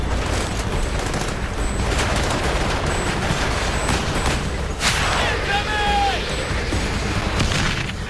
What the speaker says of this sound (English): They are under heavy mortar fire.